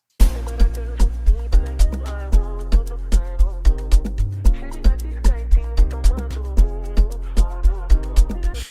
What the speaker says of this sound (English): this piano is also from my ACN Attire One Shot kit